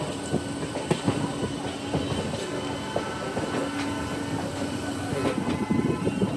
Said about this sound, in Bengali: আমাদের রানাঘাট স্টেশন ছেড়ে দিল, গাড়ি এবার কার্ভ নেবে।